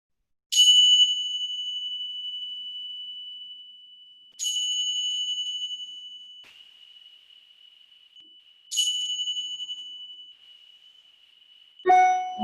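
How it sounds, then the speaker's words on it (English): Three clear bell strikes ring out at even intervals to close a yoga relaxation, each a bright ding that decays slowly into silence, followed by a brief different chime at the end. "let the sound of the bells gently guide you back to your physical body on the mat"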